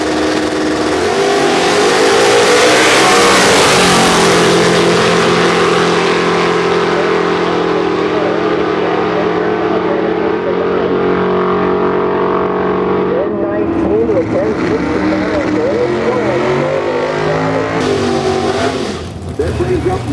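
A nitrous Outlaw Street Car Ford Mustang roars down the drag strip lane in one loud, sustained acceleration, its engine note holding then fading toward the end, with an announcer talking over it.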